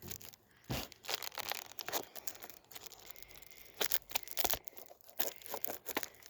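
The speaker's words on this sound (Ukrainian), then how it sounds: "Цей скотч трошки незручно розрізати, але ну, зараз розрізаю" Close, quiet crinkling and tearing of adhesive tape in irregular bursts, with sharp snips and rustles as the tape is cut.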